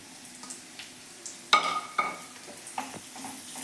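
Small pieces of sweet potato roast in hot ghee in a pan and get stirred, giving a quiet sizzle broken by a few sharp scrapes and clinks of the spoon against the pan.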